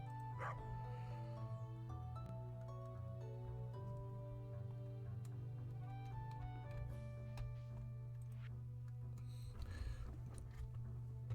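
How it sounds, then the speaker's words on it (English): Pet dog on a farm in the video game Stardew Valley giving a few short yips and barks, faint and mixed under steady tonal background music. "Well, Freddy, you be a good pooch now, okay?"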